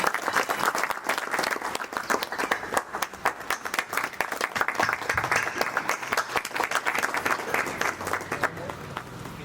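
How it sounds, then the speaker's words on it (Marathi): An audience at a farmers' honour ceremony applauds steadily, dense, even clapping from many hands filling the room at a loud, constant level throughout. "कृपया जोरदार टाळ्या वाजवून त्यांचं स्वागत करावं."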